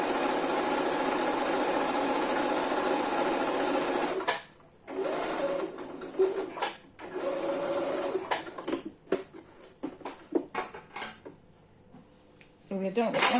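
A sewing machine stitches fabric while a ruched crop top is sewn from a refashioned maternity dress. The motor whirs in one close, continuous run, then breaks into a series of short bursts separated by brief pauses.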